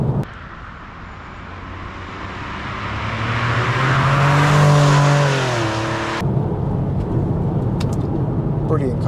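A Porsche 911 996 Carrera 2 with a 3.4-litre flat-six engine passes by, its note swelling to a loud, smooth rising whine around mid-clip before cutting off, with a voice speaking over it.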